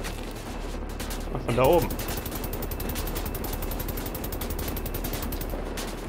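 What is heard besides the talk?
gunfire in video game Wolfenstein: The New Order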